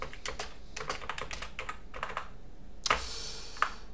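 Typing on a computer keyboard during a Linux install, with rapid close key clicks in quick bursts, a brief pause, then a couple of sharper, heavier keystrokes.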